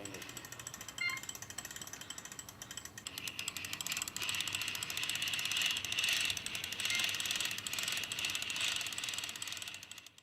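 Ratchet winch from a confined-space rescue kit clicking in a rapid, steady run of close mechanical pawl ticks that builds after a couple of seconds and continues to the end.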